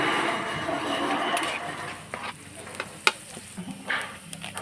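Small squid cooking in a pan, a gentle sizzle fading under scattered clinks and scrapes of a utensil stirring, close and fairly quiet.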